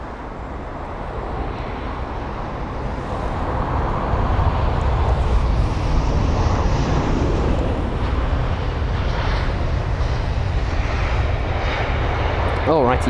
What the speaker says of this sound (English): That was the British Airways A319 on its 1 hour and 30 minute long journey, flight number BA585